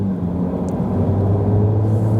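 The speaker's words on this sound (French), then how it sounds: "t'entends le moteur s'allumer" A Ferrari 296 GTB engine runs with a steady, low, humming rumble that holds at an even level throughout, heard close with no voices.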